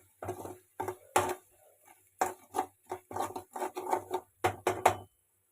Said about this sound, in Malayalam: കുറച്ച് മഞ്ഞൾപ്പൊടി ഇട്ട് കൊടുക്കാം. എല്ലാം കൂടി നന്നായി ഒന്ന് മിക്സ് ചെയ്യാം.